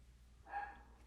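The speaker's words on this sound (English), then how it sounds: "Dog's pitching a fit." A single faint dog bark comes from somewhere away from the microphone inside a home, brief and distant against a quiet room.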